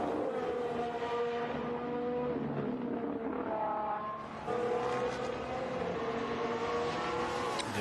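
A Formula 1 car on hard tyres lapping the Austrian Grand Prix circuit during 2021 practice, its high-pitched engine whine rising and falling through gear changes and dipping briefly before climbing again, loud and close throughout.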